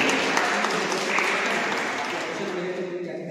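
Audience applause at a Constitution Day event in a college hall, a dense wash of clapping that holds steady and then slowly tapers, with a murmur of voices underneath.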